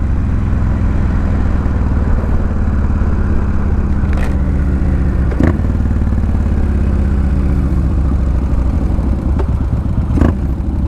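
A metric cruiser motorcycle, a Yamaha Warrior 1700, idles with a steady low rumbling engine throb, close and loud, with a few faint clicks over the constant drone.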